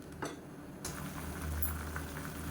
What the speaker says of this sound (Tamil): இப்போ தண்ணி நல்லா கொதிக்க ஆரம்பிக்குது